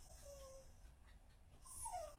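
A dog whimpers softly in a couple of brief, high whining tones during a bicycle repair session, faint and close over a quiet background with no talking.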